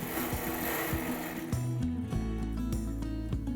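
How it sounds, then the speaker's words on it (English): A sewing machine stitches neckties down onto a T-shirt quilt, running in a steady continuous whir with shifting motor pitch and small clicks as the fabric is guided, close and alone. "When you're sewing down your neckties, find a matching color thread."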